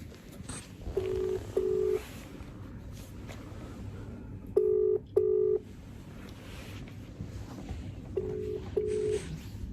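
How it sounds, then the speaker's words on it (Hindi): An outgoing phone call rings out in pairs of short, evenly spaced ringback tones that repeat at a steady interval over low background noise. "अभी अभी अभी मेरा फोन जा रहा है"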